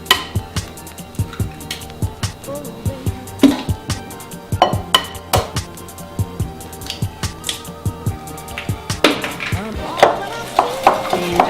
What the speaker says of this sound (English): And just mix that until it's combined.